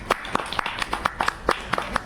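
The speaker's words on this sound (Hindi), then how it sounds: "बहुत तालियां।" Wedding guests clap in a loose, uneven patter of sharp hand claps, about eight distinct bursts over two seconds, moderately close and without talk.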